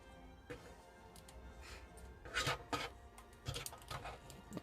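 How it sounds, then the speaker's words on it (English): A Transformers Titans Return Mindwipe figure has its plastic arm turned at the bicep swivel, making faint, close scraping and ratcheting clicks in a few short bursts, with no voices. "Then you want to rotate it at the bicep swivel"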